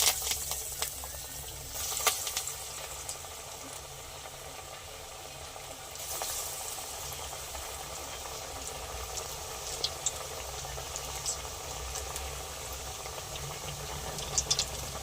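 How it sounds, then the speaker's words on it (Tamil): Mochai vadai fry in hot oil in a pan, giving a quiet, steady bubbling sizzle with a few faint clicks and taps along the way. "எண்ணெய் நல்லா சூடானதும் நம்ம தட்டி வச்சிருக்கிற வடையை ஆட் பண்ணிக்கலாம்"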